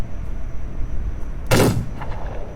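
A single sharp, loud gunshot from a Lancaster pistol in the western shooter game The Wild West, fired once in a fairly quiet scene with a short decaying tail and no talking.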